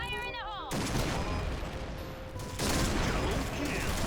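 A Barrett sniper rifle firing in the online shooter Point Blank, a dense, loud barrage of gunshots that kicks in after a brief electronic chirp and continues through the rest of the stretch.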